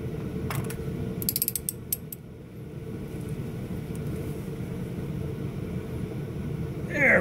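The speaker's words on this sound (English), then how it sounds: "let me use the ratchet for now" A hand ratchet clicks as wheel studs are tightened on a new rotor of a 1990 Ford F150, with quick bursts of clicking over a steady low background rumble, close and moderately loud.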